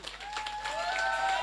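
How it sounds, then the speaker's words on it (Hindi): A seminar audience claps loudly at a passive income talk, giving a steady patter of many hands that continues for the whole moment, with faint voices underneath. "जोरदार ताली"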